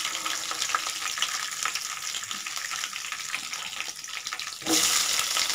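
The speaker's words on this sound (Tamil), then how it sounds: "இது நல்லா பொரியட்டும், கொஞ்சமாக கலர் விட்டுக்கோங்க." Urad dal fries in hot oil in a pan for a Tamil beetroot rice, giving a steady, bright crackling sizzle heard up close with no talking, which briefly surges louder near the end.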